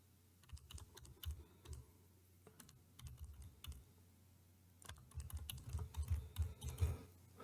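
Keys on a computer keyboard are typed in irregular bursts of fast clicks, quiet between bursts and getting busier toward the end, with no voices.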